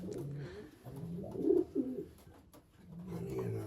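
Breeding pigeons coo softly inside a loft, low rolling coos rising and falling twice in the middle, fairly faint against a quiet room hum.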